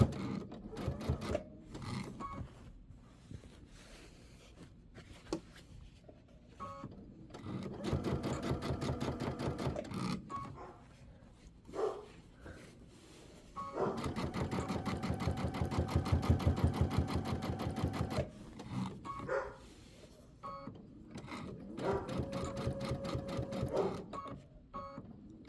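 A sewing machine stitches a quilt in long steady runs of rapid mechanical chatter, stopping and restarting several times with short pauses between bursts, close and fairly loud.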